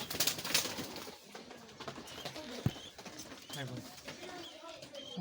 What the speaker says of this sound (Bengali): খুব বড় সাইজের পায়রা দুটো